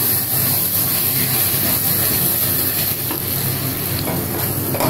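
Spices and onions sautéing in a pan for chicken biryani while being mashed with a spatula, a dense steady sizzle and hiss with soft scraping underneath, close and even, no voices.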